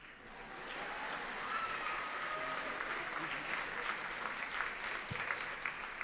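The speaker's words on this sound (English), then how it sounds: "This is where you clap for your family." A graduation audience at a 2025 Cambridge ceremony applauds the graduates' families, a broad, steady wash of clapping from a large crowd in a hall, holding at moderate level throughout.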